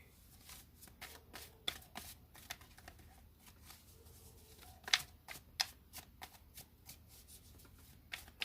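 Tarot cards being shuffled by hand, a rapid series of crisp riffling and flicking bursts in irregular clusters, close and fairly quiet against a soft background.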